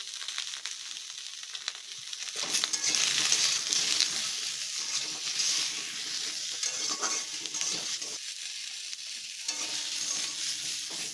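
Eggplant pieces frying in oil in a home kitchen pan, a loud continuous sizzle broken by scraping stirring strokes, with no voices over it.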